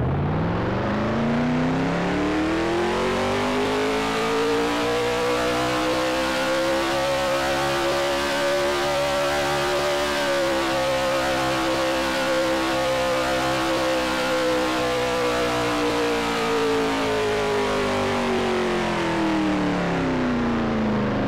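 A Garry's Mod car engine idles steadily at around 700 RPM for about twenty seconds, a loud, continuous droning hum whose pitch rises slightly midway and then eases back, with no voices.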